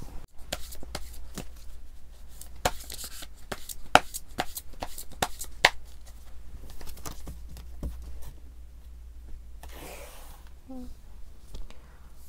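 Tarot cards are shuffled by hand in quick, soft riffling flicks and taps, close but quiet against a low room hum, then trailing off into a faint rustle.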